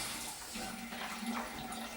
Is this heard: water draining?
yes